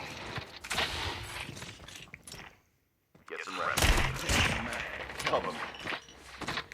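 Rapid gunfire bursts in the Call of Duty Mobile game on the Alcatraz map, crackling volleys scattered under someone talking, with a brief silent gap before the shooting and speech resume.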